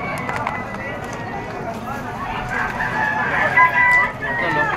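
Rooster crowing at a Malabon pet market weekend tiangge, the calls rising over a busy bed of clucking fowl and crowd noise while people talk nearby.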